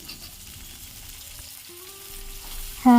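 Tomato curry cooking in a pan with shallots, garlic and green chillies, a steady low sizzle running throughout, then a sudden louder sizzling burst near the end as more goes into the hot oil.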